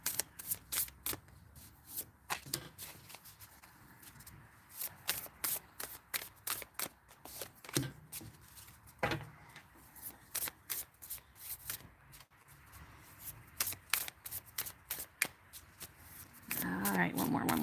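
Tarot cards shuffled by hand, a long run of quick riffling bursts and soft slaps at close range, some sharper flicks scattered throughout, with faint talk near the end.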